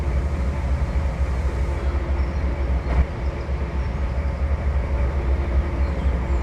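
A locomotive in a train simulation game rumbles along steadily with a low, continuous rail drone and faint metallic texture throughout, loud and unbroken, without speech.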